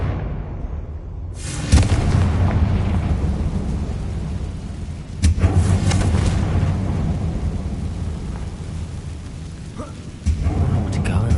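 Confringo blasting spell explosions in Hogwarts Legacy, several loud thunderous booms that each roll into a long rumbling tail, spaced a few seconds apart.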